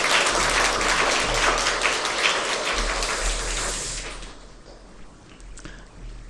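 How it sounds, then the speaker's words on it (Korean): A church congregation at a Palm Sunday service applauds a Bible study group, with dense steady clapping that fades away after about four seconds into a quiet room. "우리 박수로."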